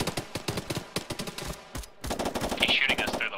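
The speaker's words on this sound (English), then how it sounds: "He's shooting us through the wall." Gunfire in the military shooter game ARMA 3, with rapid automatic bursts of sharp, loud shots in quick rhythmic volleys, a brief pause, then more sustained firing close by.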